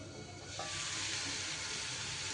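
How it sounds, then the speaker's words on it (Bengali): Pieces of elephant foot yam frying under a lid in a covered pan give a soft, steady sizzle and hiss that swells slightly after a moment and holds evenly, quiet and close, with no talking. "এইভাবে ঢাকা দিয়ে দিয়ে ওলগুলোকে আমি বেশ লাল লাল করে ভেজে নেব।"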